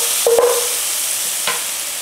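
Garlic paste frying in a pan for a chicken dopiaza, a steady close hiss of sizzling oil with a metallic clink and stirring scrape near the start and another brief scrape later.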